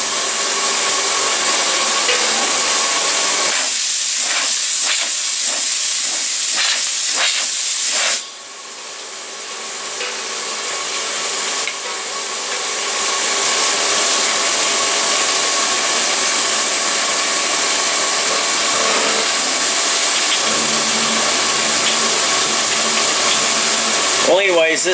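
A milling machine cuts an M4 thread mill through four holes under heavy flood coolant, giving a loud continuous spraying hiss with a run of rhythmic cutting ticks early on. There is no clear talk.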